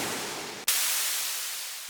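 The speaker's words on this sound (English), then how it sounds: "Classic white noise splash on this." Classic white-noise splash cymbal in a drum beat made with the Wave Alchemy Triaz drum synth: a steady hiss cuts off briefly, then a bright burst of noise swells back and decays slowly.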